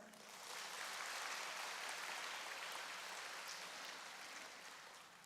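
A crowd applauding at a kindergarten graduation ceremony, a broad steady wash of clapping that swells in and holds for several seconds, heard from a distance with no talk.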